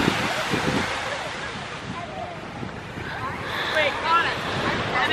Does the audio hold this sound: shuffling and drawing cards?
no